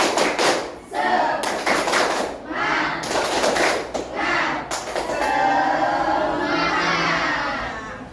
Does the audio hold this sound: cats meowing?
no